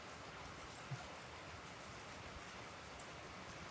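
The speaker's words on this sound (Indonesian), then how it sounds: "Grand Wisata lagi hujan, betul, lagi hujan. Ini gua duduk di depan pintu arah ke kolam. Hujan banget" Steady, dense hiss of heavy rain falling outside a doorway facing a pool during the evening, with a few faint scattered ticks over the constant wash. No one speaks.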